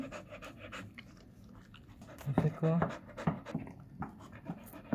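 A dog pants in quick, rhythmic breaths close by, mixed with faint chewing or mouth sounds, while people talk over it in French and Filipino.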